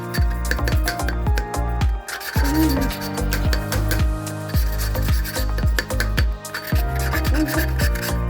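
An intake valve on a 110cc or 125cc dirt bike or quad engine being lapped with coarse-grit lapping paste, a loud repeated gritty rubbing and rasping in quick back-and-forth strokes, close up.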